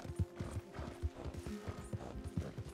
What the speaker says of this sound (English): I'm gonna stop the horse